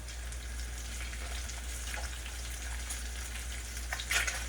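Salmon fillets cooking in a pan give a steady, soft sizzle with faint crackles throughout, with a brief louder spatter near the end; no one talks.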